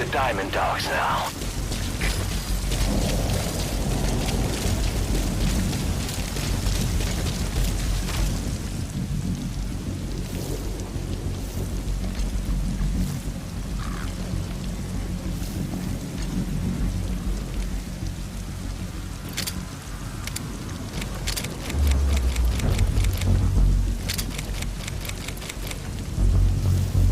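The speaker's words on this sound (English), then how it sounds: "The sound of rainfall should help to mask your footsteps." Steady rain hisses through Metal Gear Solid V gameplay, with low thunder rumbling at intervals and a heavier boom near the end, while a voice speaks over the weather for much of the time.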